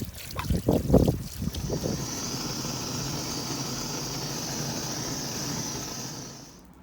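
Water sloshes and swirls inside an aquarium filter housing as it is shaken to clean it, beginning with a few close, irregular splashy bursts and then settling into a steady rushing, churning wash that ends abruptly.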